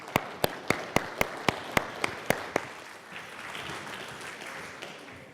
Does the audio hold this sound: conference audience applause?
yes